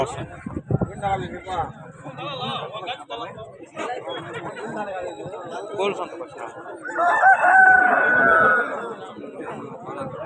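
Fighting roosters at the Punganur rooster market crow amid a busy crowd, with one loud, drawn-out crow standing out over constant nearby chatter and talking.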